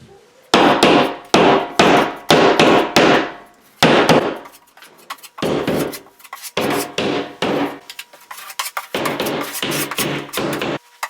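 Rapid bursts of sharp drywall-hammer blows driving popped nails into a wall, in quick clusters separated by short pauses, loud and close with a woody, knocking ring.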